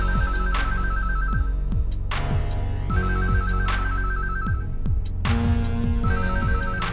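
An electronic phone ring from the Incredibox music game loops in a repeating pattern of bright trilling bursts, set over a steady synthetic beat with rhythmic plucked bass notes.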